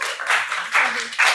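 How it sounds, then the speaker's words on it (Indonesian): A classroom gives a student a short round of applause: three quick bursts of hand clapping from a group, close and fairly loud, with no talk over it. "tepuk tangan buat Mbak siapa?"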